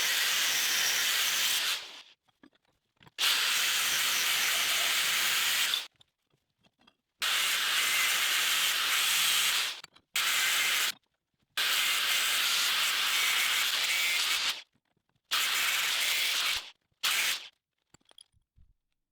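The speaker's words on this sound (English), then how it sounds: "help me out with some rough cuts with the angle grinder" An angle grinder makes rough cuts through metal, loud harsh bursts of grinding that run for one to three seconds each, about six passes separated by short silences.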